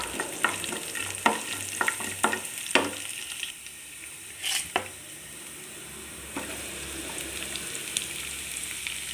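Chopped onions hit hot oil in a pan and fry with a steady close sizzle, broken by several sharp clinks and scrapes of a spoon stirring against the pan.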